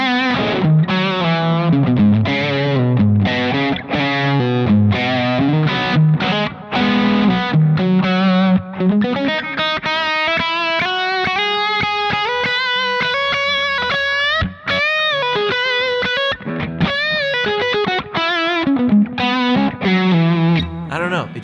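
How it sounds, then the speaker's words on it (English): Overdriven electric guitar through a Dumble Master amp model on a Line 6 Helix, playing a continuous singing lead with sustained notes and bends, steady and upfront with no talk. "this is the sound of the Dumble Master amp"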